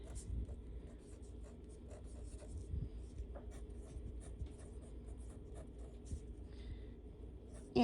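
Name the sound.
writing on paper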